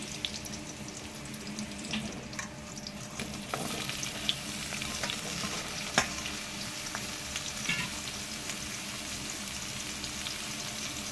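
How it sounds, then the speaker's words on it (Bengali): Sliced ridge gourd sizzling in hot oil tempered with asafoetida, a continuous fry hiss with scattered stirring clinks and scrapes, close and steady. "এবার দিয়ে দিচ্ছি ফোড়নে একটু হিং দিয়ে দিলাম। এবার কেটে রাখা ঝিঙেগুলো এখানে দিয়ে দিচ্ছি।"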